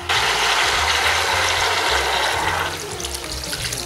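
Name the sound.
water poured into a pot to cover ingredients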